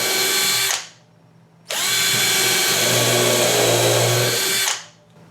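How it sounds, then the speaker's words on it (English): A Hitachi 12V lithium-ion driver drill boring countersunk pilot holes in wood, two loud steady whirring runs, a short one and a longer one, each spinning down, with no talk. "now that we have those pilot holes drilled along with the countersinks"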